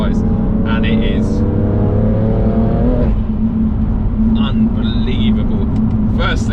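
A 520 BHP Viper BMW M3 Competition Package drives on a rough stretch of road, its engine note loud and close, rising through the gears with a steady roar and a shift near the middle.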